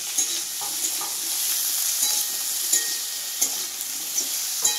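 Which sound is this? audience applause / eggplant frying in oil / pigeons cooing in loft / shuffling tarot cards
eggplant frying in oil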